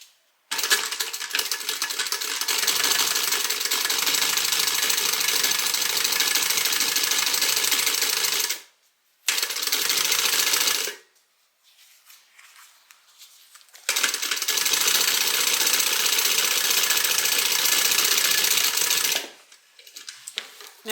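A sewing machine runs in long, steady stitching bursts along a seam, close and loud, stopping briefly between runs, with a quiet pause before the final stretch.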